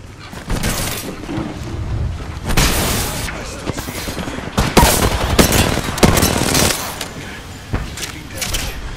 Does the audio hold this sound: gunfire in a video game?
yes